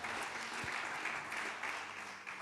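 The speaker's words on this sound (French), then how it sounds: "Acclamons pour notre papa." A church audience at a thanksgiving gathering claps in sustained, dense applause, a steady wash of many hands fairly near and even in loudness, with no pauses.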